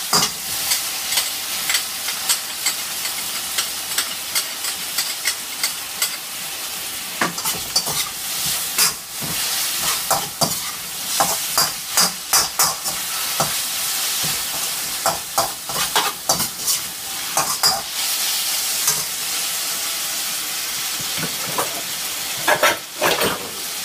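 Rice in a hot pan sizzles steadily as sauce goes in, with a spoon or spatula scraping and clattering against the pan in irregular bursts, close and clear with no voices.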